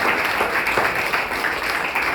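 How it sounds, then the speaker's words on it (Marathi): An audience at a self-defence camp event claps together in a dense, steady burst of applause that holds at full volume throughout, close and loud. "आपण टाळ्या वाजवूया"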